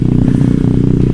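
A Vespa GTS 150 Super Sport scooter engine while riding, a loud, steady low buzzing drone with a rapid pulsing rhythm and no voices.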